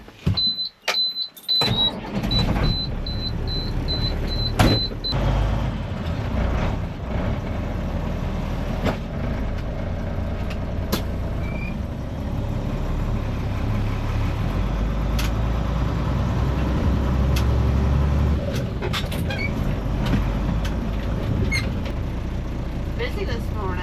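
A farm dump truck's engine rumbles steadily at idle after a few sharp clunks at the start, a low continuous drone beneath someone talking.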